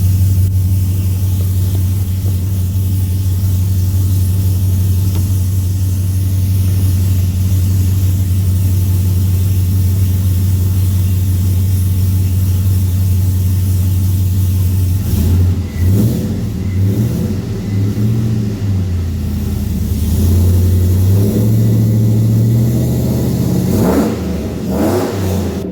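A 2003 Chevrolet Silverado with a Speed Engineering full exhaust rumbles steadily at idle, close and loud, then revs up and settles repeatedly in the latter half.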